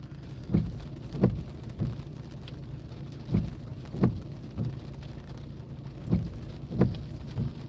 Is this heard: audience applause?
no